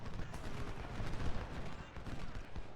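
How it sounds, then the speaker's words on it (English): Artillery and massed gunfire from a Civil War battle in the strategy game Ultimate General, at Gettysburg, crackle as a dense, faint, continuous barrage of overlapping booms and shots. "Alright, you can go ahead and start firing on the artillery again."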